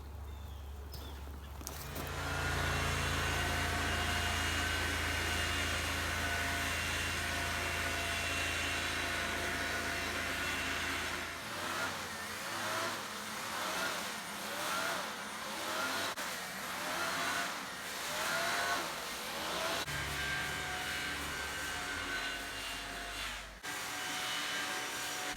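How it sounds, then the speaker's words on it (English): A Ryobi 18-volt brushless leaf blower attachment on a quick-change string-trimmer shaft runs close by with a continuous whirring roar that surges and dips as it blows leaves, with no speech. "I can take the weed eater end off and put the blower on"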